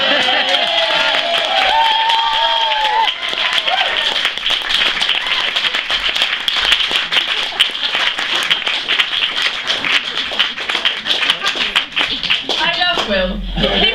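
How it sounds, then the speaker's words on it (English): Audience applause for a poet, sustained clapping from a crowd that fills the room for over ten seconds, with some voices over it near the start and end. "a round of applause for Will."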